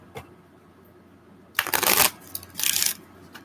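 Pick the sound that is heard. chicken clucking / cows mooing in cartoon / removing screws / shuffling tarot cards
shuffling tarot cards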